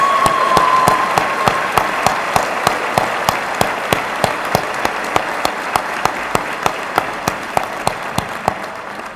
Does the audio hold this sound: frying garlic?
no